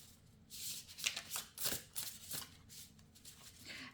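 Tarot cards being shuffled by hand, a run of soft riffling and slapping bursts close by, quiet and with no talk.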